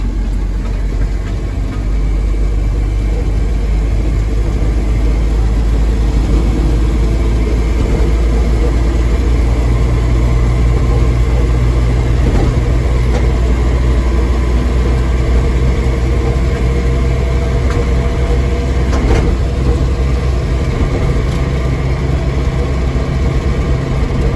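A 1978 Ford F-150 pickup truck driving on a road after decades off it, a loud steady engine drone with low rumble and road noise throughout, no talk.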